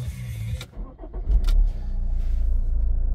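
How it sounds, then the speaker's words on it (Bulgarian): An Opel Insignia 2.0 CDTi diesel with automatic gearbox and 4x4 cranks over briefly, catches, and settles into a steady, close, rumbling idle with no talk. "мотор работи безупречно"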